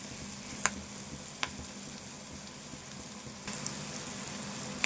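Chicken and ginger-garlic paste frying in a pan for a Telugu-style chicken fry, a steady close hiss of sizzling oil with a few sharp pops and stirring clicks.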